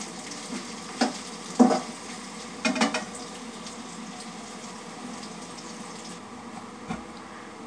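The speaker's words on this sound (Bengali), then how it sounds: "এখন আমি পেঁয়াজটা ভেজে নিই।" Onions frying in oil in a wok on a home stove, a low steady sizzle with a few brief louder stirring clatters, no talking.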